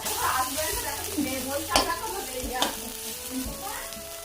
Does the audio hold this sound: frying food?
yes